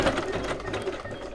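Sewing machine whizzing a zigzag stitch around a piece of paper ephemera for an altered notebook, a steady close mechanical whir with ticking needle action, no talk.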